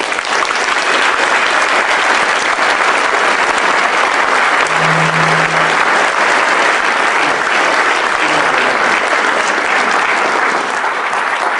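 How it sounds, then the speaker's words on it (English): A large audience applauds warmly to welcome Dr. Peter Boghossian to the stage at a talk, dense steady clapping that stays loud and even throughout with no voices on top. "Please give a warm round of applause for my mentor, inspiration, and close personal friend"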